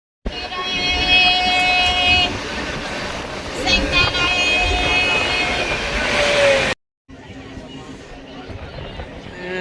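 The Mumbai Panchavati Superfast Express rolls in to a platform with a loud, sustained roar and high squealing tones, then a brief silence before quieter rumbling resumes.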